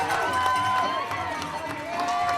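Dense, loud crowd noise at a Ryse Wrestling event, a steady roar of cheering with shouts rising through it, continuous across the moment with some voices standing out close by.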